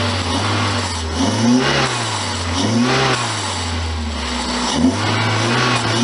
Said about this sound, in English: Let me give it a bit of a rev.